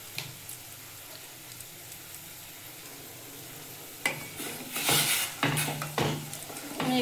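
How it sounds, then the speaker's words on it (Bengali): A pot of masoor lentil dal being stirred on the stove, with soft scraping and clinks of a spoon against the pot over a low background hiss, growing louder and busier in the second half. "আমি একটু নাড়িয়ে দিলাম"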